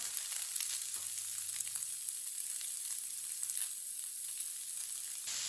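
Chicken frying in a pan after spices go in, a steady soft hiss of sizzling oil with faint crackle, continuous and fairly quiet throughout.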